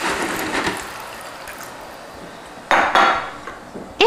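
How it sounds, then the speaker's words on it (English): Chicken stock and water poured into a pot of rice, a quiet metallic clatter at first, then a louder burst of liquid splashing into the pot near the end. "that's when you're going to want to add a couple tablespoons of chicken stock and about 1 3/4 cup of water"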